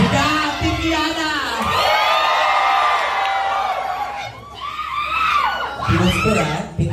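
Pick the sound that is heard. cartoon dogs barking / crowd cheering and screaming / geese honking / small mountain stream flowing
crowd cheering and screaming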